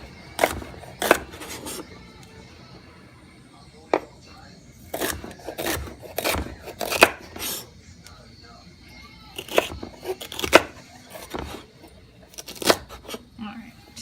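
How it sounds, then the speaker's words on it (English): A knife slices celery and carrot on a cutting board, making irregular sharp chops and taps scattered through the clip over a quiet room background. "gonna slice the celery and carrot up."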